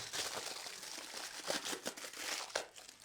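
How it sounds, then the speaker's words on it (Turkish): Aluminium foil being pulled open, torn and crinkled close by, a quiet run of crackling rustles with a few sharper tearing snaps. "bu alüminyum folyo düzgün ama farz edelim ki açıyoruz. Koptu."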